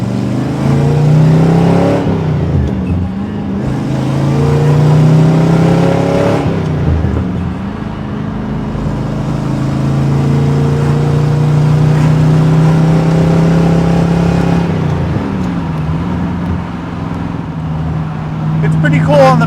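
A 1969 Chevrolet Corvette coupe with a 350 V8 pulls hard along a twisty back road, heard from the passenger seat. The loud engine repeatedly revs up and eases off in long surging waves.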